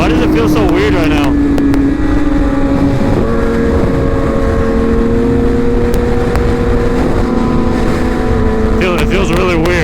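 A BMW S1000RR sport motorcycle on the move through canyon roads, its engine droning steadily and rising in pitch as it revs between shifts, heard close up under heavy wind buffeting.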